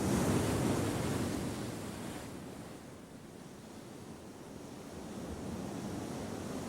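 Ocean surf crashes against rocky Pacific coastline below granite cliffs, a broad roaring wash of waves swelling and receding with wind noise, continuous and moderately distant.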